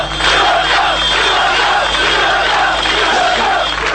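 Angry crowd in Croatia burning Yugoslav flags, a dense continuous roar of shouting and chanting voices, loud and sustained throughout with a steady low hum beneath.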